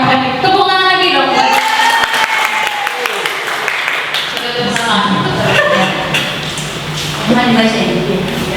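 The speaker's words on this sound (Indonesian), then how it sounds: "Tepuk tangan lagi dong." Loud audience applause at a teacher training session at an Islamic boarding school, with clapping and crowd noise mixed under ongoing speech and voices throughout.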